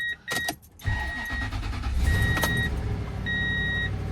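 A 2002 Toyota Tundra pickup engine cranks and catches, then settles into a steady idle, with a few high electronic chimes ringing over it.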